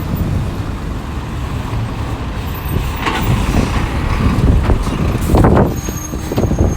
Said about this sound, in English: A lot of truck traffic